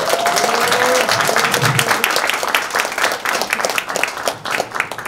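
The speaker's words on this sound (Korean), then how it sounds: "동의하시면 이수진한테 박수 한번 주세요" An audience at a political lecture bursts into loud, dense applause for Lee Soo-jin, with sustained clapping that fills the hall for several seconds while a voice briefly carries over the start.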